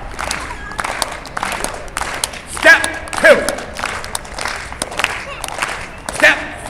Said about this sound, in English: Keep clapping, it's just a pain in the butt.